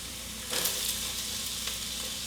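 Diced sweet onion sizzles steadily in melted oil in a pan, a soft, even hiss that flares up briefly at the start and stays level throughout, with no voices.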